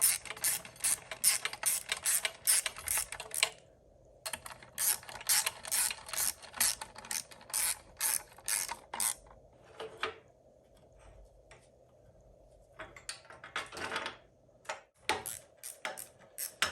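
A ratchet tightens small nuts on a bicycle in quick, close clicking runs. Short pauses break up the bursts, and a final few clicks come after a quieter stretch.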